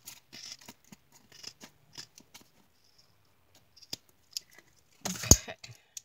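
Scissors snipping paper during a craft project, scattered quiet clicks and cuts, then a louder rustling burst near the end, with no voices.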